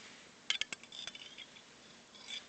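A table knife works through food on a plate during a formal dining demonstration, giving a few quick, faint clinks against the plate and then soft scraping, with no talking.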